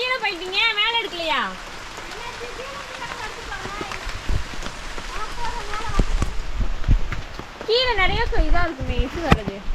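Rain falls steadily on surfaces and foliage during cardamom picking, a constant close patter, while people talk over it in bursts.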